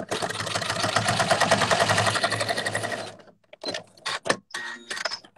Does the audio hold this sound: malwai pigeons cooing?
no